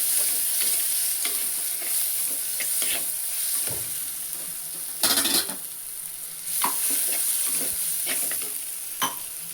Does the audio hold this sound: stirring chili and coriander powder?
yes